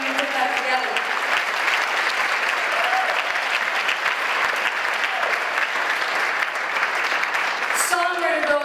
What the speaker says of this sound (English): Please give a round of applause to Becky Cat